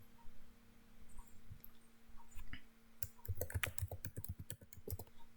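A computer keyboard clatters in a quick, near burst of keystrokes after a few scattered taps, over a faint steady electrical hum.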